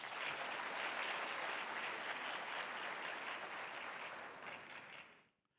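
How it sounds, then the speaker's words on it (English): Audience at the AfriLabs Annual Gathering 2023 in Rwanda applauds with steady, dense clapping from a large crowd, holding at full strength for about five seconds before fading out quickly. "A round of applause for him."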